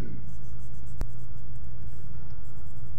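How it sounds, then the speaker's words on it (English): A pen or marker draws and colors an egg shape on paper, a close, continuous scratching under a steady background hum, with one sharp tap partway through. "And let's draw this egg."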